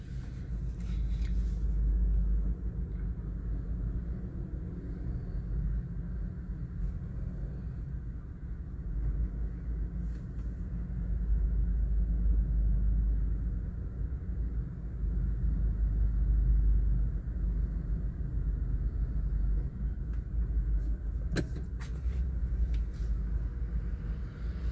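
Road traffic on EDSA heard from inside a car heading toward Makati: a continuous low engine and road rumble with slight swells, a few faint clicks and knocks, and no talking.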